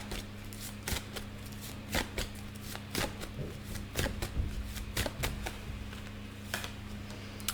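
Tarot cards being shuffled close by, producing a series of sharp riffling snaps and soft slides in an irregular rhythm over a faint steady hum, with no talking.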